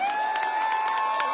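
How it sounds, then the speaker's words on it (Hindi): Crowd applause and cheering at an AWPL seminar, a short burst of clapping and voices with a steady, whistle-like tone ringing above the noise. "एक बार जोरदार तालियां, हाथ ऊपर करके जानने वाली तालियां होनी चाहिए"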